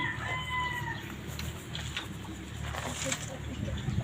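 A fighting rooster crows faintly near a chicken coop being built, with a short crow early on over a low, steady outdoor background.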